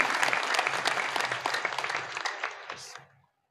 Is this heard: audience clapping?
yes